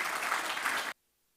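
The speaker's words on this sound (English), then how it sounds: "Let's give a big round of applause to our speakers" A short burst of dense clapping from a conference audience for panel speakers, loud and steady, then cutting off abruptly into silence.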